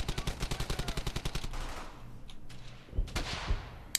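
Rapid machine-gun bursts in the World War II video game Brothers in Arms: Hell's Highway, a fast loud string of shots fading into a rumble, followed by a few scattered single gunshots.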